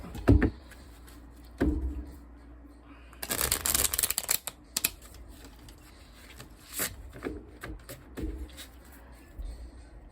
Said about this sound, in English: Shuffle this here too.